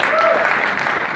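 A live audience at a crypto project pitch event claps in a brief, dense burst of applause, loud and continuous, with a voice carrying over it.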